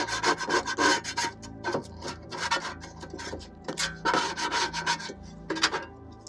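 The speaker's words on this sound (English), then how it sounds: "What I think we're going to end up doing is scraping and then respraying" Baked-on grease scraped off an air fryer with a scraper, in bursts of harsh, close rasping strokes separated by short pauses.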